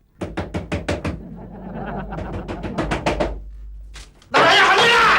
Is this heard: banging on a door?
yes